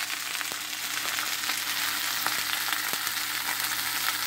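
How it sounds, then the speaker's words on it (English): Pork chops fry in a hot pan, a dense, even sizzle with occasional crackles running steadily throughout, close and fairly loud. "threw it into the hot frying pan. You can see it's cooking up right now."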